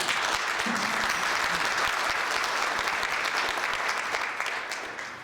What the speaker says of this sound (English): why don't we give them a welcoming round of applause